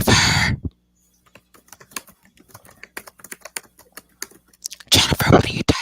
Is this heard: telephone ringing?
no